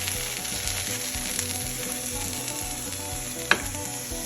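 A paratha frying in a pan gives a steady, close sizzle throughout, with one brief sharp clink partway through and no talking.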